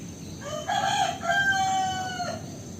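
A rooster crows once at a house, a clear drawn-out cock-a-doodle-doo heard at moderate distance over quiet background.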